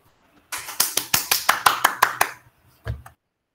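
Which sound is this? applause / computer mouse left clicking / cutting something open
applause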